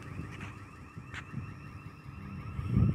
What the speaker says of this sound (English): alarm is going off somewhere